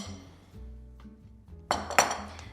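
Artichokes are set into a 9 by 13 glass lasagna baking dish with a few light clinks and dull knocks, then a brighter ring of glass near the end. The sounds are close and quiet, with no speech.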